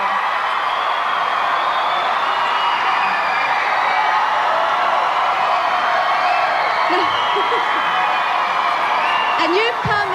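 Crowd noise from cheer squads at a live televised eviction night, with a steady wash of voices, whoops and cheering under nearby chatter throughout.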